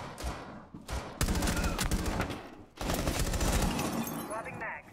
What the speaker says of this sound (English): I'm getting shot at up here